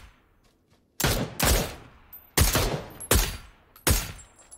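Gunfire in a Destiny video game firefight: five loud, sharp bursts of shots, each a heavy crack with a short decaying tail, arriving in quick, uneven succession after a brief quiet start.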